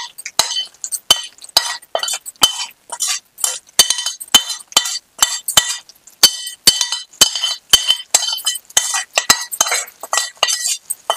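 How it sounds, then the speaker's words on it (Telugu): A spoon scrapes and clinks steadily against a vessel, stirring fried dal into a bottle gourd curd chutney; repeated sharp metallic taps ring out in a regular rhythm, close and clear. "ఈ పప్పు దీంట్లో కలిపేస్తున్నాను"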